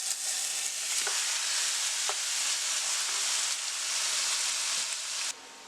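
Beef frying in browned, caramelized sugar for Caribbean pelau, a bright continuous sizzle with a few soft stirring knocks, close and alone, cutting off near the end.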